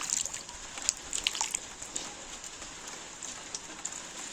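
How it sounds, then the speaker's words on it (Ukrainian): Steady rain patters on a surface, a dense hiss with scattered louder drops, continuous throughout with no voices. "У нас сьогодні дощ йде без перестанку."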